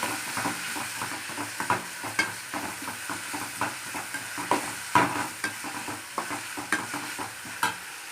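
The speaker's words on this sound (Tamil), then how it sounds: "புதினா தழை, கொஞ்சமாக கொத்தமல்லி தழை. நல்லா வதங்குது." Mint and coriander leaves with curry leaves sauté in a pan for kudal (goat intestine) curry, a soft sizzle broken by repeated scraping stirs of a spoon, close and steady with no talk.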